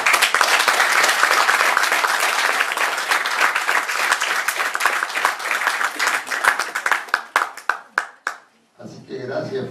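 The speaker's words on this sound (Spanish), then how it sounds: "Así que gracias por el aplauso también hacia ellos" An audience at a talk or interview event bursts into dense, sustained applause that thins into scattered individual claps and stops, with a voice starting to speak at the very end.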